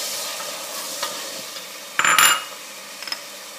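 Chickpeas and Egyptian fava beans frying together in a pot, a soft sizzle under scraping stirs and a brief loud burst of utensil clatter midway, with no talking.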